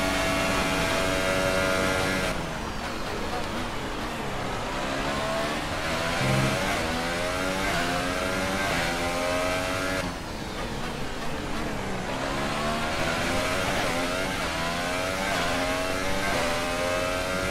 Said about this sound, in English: But look at this, we've got the beat of this Renault engine